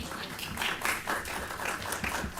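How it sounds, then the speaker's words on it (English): Soft, continuous applause from a small crowd at a city meeting, a fairly faint wash of clapping with no talking. "Y'all deserve a round of applause for that,"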